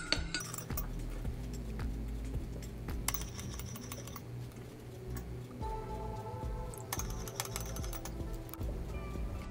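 Spoons stir egg dye mixed with vinegar and hot water in cups, giving bursts of light glassy clinks and ticks close up, in two separate stretches with a quiet pause between.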